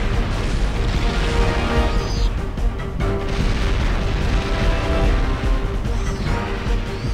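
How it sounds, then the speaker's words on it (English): Rocket explosions in the N64 shooter Turok 2 boom loudly and continuously amid dense game music and effects, with no talk over them. "And of course, satanic rockets are always nice and fun."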